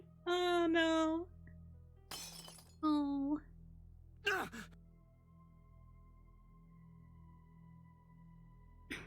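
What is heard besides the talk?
mirror being smashed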